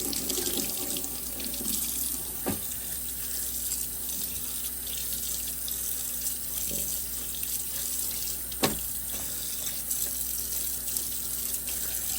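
Cool tap water runs steadily into a sink to rinse dye from Aida cross-stitch fabric, a constant soft hiss with a couple of faint clinks, no voices.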